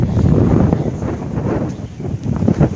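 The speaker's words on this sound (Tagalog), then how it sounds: "Ano yung hangin doon?" Steady low rumbling buffeting of wind hitting the microphone, loud and continuous throughout, with slight surges and no talking.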